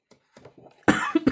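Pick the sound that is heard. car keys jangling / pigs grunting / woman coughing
woman coughing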